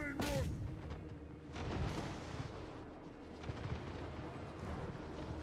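Explosions boom in a strategy video game as a gyrocopter makes a bombing run, with a sharp blast at the start followed by rumbling detonations and battle clutter.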